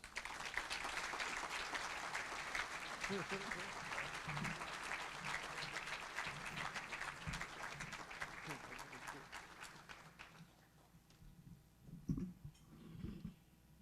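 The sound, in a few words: applause for Major James Allison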